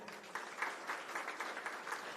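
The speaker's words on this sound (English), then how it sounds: "may I request each and every one of you to clap, applaud your success of securing admission to NMIMS Bengaluru campus" Students in a seminar hall at an NMIMS Bengaluru orientation program applaud, fairly faint and roomy, starting soft and swelling into sustained, even clapping from a large group.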